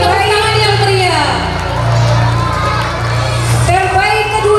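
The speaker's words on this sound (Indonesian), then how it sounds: "Beri tepuk tangan yang meriah" At a school Quran memorization graduation, a crowd of children and adults cheers and shouts with whoops and raised voices, loud and lively, while music or a steady tone hums underneath.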